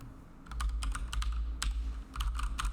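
Quick typing on a computer keyboard, close and fairly soft, with bursts of keystrokes and a short pause near two seconds.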